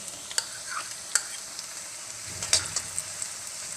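Soft, steady sizzle of a bay leaf, cinnamon, black cardamom and garlic frying in hot oil, punctuated by a few sharp clicks and taps of a utensil.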